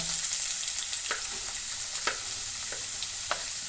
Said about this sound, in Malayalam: നമ്മളൊരു പാനൊക്കെ വെച്ച് കുറച്ച് വെളിച്ചെണ്ണ ഒഴിച്ച് കൊടുത്തിട്ടുണ്ട്. ഇതിലേക്ക് നമ്മൾ കട്ട് ചെയ്ത് വെച്ച ഉള്ളി ഇട്ട് കൊടുക്കുന്നുണ്ട്